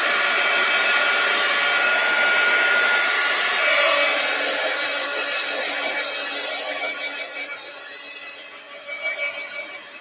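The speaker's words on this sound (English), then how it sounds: "Where did I put my heat gun?" A heat gun blows hot air onto an art journal page, a steady loud whooshing hiss close by that fades somewhat toward the end as it is moved away.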